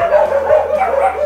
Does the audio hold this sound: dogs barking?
yes